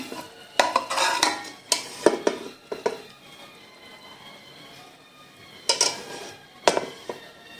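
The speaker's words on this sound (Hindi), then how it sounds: "इसको डिश आउट कर लेते हैं।" Pea pulao is served from a cooking pot, with a spoon clinking and scraping against the metal in bursts, then a quiet stretch before a few more scoops and clinks near the end.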